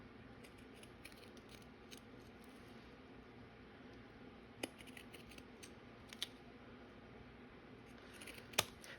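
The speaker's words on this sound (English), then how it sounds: "I want to go around it with my pinking shears" Pinking shears snip through paper in quiet, close, scattered crunchy cuts, with a few sharper clicks against a faint background hiss.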